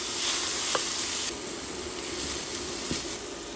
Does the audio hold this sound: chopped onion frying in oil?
yes